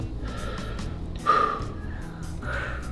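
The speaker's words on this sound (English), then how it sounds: "Now listen to your back, and you can take some more big breaths." Child patient taking big deep breaths during a stethoscope exam of the back, a few slow breathy inhales and exhales with one louder gasp, close and fairly quiet.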